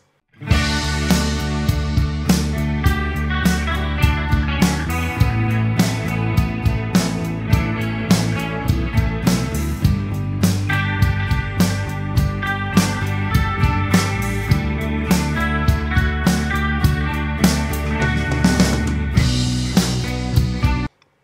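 A clean-channel electric guitar, lightly evened out by a Warm Audio WA-2A compressor, plays a steady rhythmic pattern of bright picked chords and notes throughout, loud and unbroken until the end.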